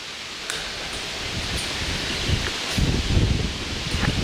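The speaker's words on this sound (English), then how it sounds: "That's a lot windier than 3 miles an hour." Wind blows steadily through outdoor foliage on an off-grid farm, a broad rushing hiss that gusts louder toward the end, close and continuous with no talk.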